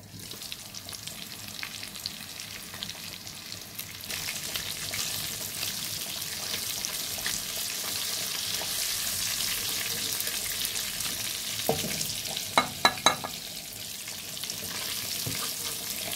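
Fish frying in hot oil in a home kitchen, a steady close sizzle running throughout, with a few sharper crackles and spatters near the end and no talking.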